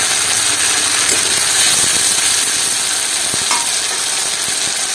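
Garlic paste and ginger-cumin paste frying with fried onion in a pan, a loud continuous close sizzle with occasional scraping stir knocks, no speech.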